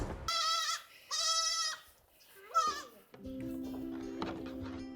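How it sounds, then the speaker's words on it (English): Nubian baby goats bleat on a farm in Michigan: three loud, wavering bleats close by, with the last one shorter, followed by a steady droning hum. "Meet the newest additions to Maple Leaf Farm, Nubian baby goats, each one bringing joy to the world, and just a little chaos"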